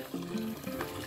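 Water running steadily from a pipe in a pig farm's water system, a continuous splashing flow with a faint tonal hum, no talking.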